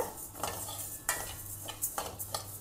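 Split lentils dry-roast in a pan, stirred with a spatula that scrapes and rattles in a few distinct sweeps. A faint hiss sits underneath, and no voices are heard.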